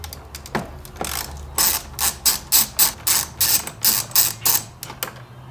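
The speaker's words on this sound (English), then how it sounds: "we are going to now remove this nut using a 10mm socket." A 10mm socket on a ratchet turning a nut off a Ford Raptor fuse mount, a close, loud run of about a dozen evenly spaced clicking pawl bursts.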